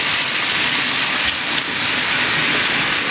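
Trackmaster toy trains racing with motors running on the track, a loud, steady high-pitched whirring hiss that stays constant throughout, close by with no voices.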